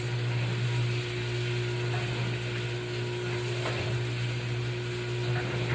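Steady sizzling of taco food frying in a pan, a continuous crackling hiss over a low electrical hum, with no voices.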